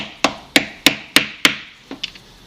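A small hammer knocks pegs out of a Nerf Zombie Strike Hammershot blaster, with five sharp, evenly spaced wooden-sounding taps followed by three lighter, quicker knocks, close and clear with no talking.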